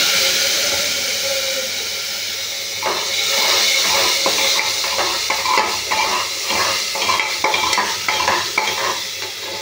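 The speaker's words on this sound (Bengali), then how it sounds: "আদা, জিরে, ধনে, হলুদ গুঁড়ো সব মিশিয়ে রেখেছি। এটা আমি এর মধ্যে দিয়ে দিলাম।" A spoon stirs a mix of ground ginger, cumin, coriander, turmeric and chilli in a hot pan, a steady bright sizzle carrying repeated scraping strokes that grow louder and more rhythmic partway through.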